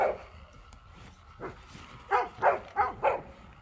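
Four quick dog barks in a row, moderately close, following a quieter bark or two earlier, over faint background noise.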